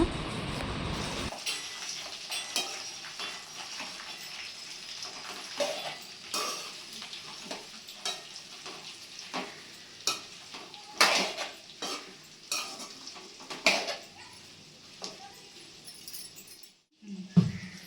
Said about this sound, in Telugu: ఆ పచ్చిమిరపకాయలు మొత్తం వేగాలి మంచిగా